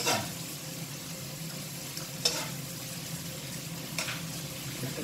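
Water spinach (morning glory) is stir-fried with shrimp paste and minced pork in a hot pan. A steady close sizzle carries a few sharp utensil scrapes against the pan, and no one speaks.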